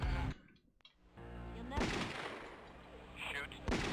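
Gunfire in a Sega Saturn prototype video game, a run of rough crackling shots that cut in and out with a gap of near silence, then keep going under steady game noise with a burst at the end.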